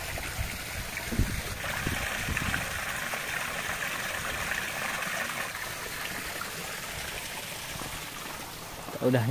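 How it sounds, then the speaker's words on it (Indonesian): Small, clear stream in a rural village flowing steadily with a continuous, close watery trickle and gush, with no break across the stretch. "Pinggir sini sungai kecil jernih banget itu ya."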